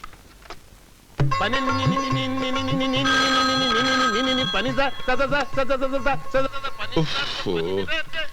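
A telephone ringtone plays as a loud, sustained electronic melody in a film scene set in a garage, with overlapping tones and a busy musical texture running for several seconds.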